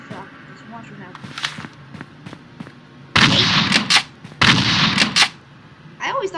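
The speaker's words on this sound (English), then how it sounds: "It's pretty cool when you shoot them with the shotgun." Shotgun blasts hit enemies in the Slendytubbies video game, two loud, heavy booms each lasting about a second, preceded by softer game clicks and thumps.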